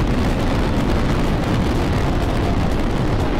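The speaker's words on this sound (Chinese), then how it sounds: "土豪按下开关，烟花同时燃放，照亮了整片天空" A large fireworks display set off all at once in the night sky, with thousands of tubes firing together in a continuous, loud, rumbling roar and no gaps between blasts.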